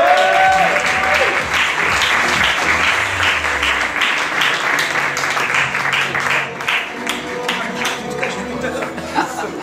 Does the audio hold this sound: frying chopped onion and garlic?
no